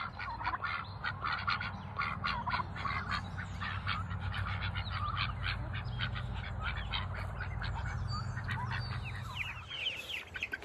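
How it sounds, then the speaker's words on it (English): Ducks quack and chickens cluck in a busy farmyard chorus with turkeys nearby, with rapid repeated calls over a low rumble, fairly close and continuous. "Ducks are out running around, chickens are out, turkeys are out."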